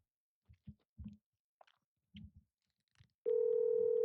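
A continuous steady ringback tone starts abruptly after a few scattered soft thumps and handling noises and holds loud to the end, with no talking.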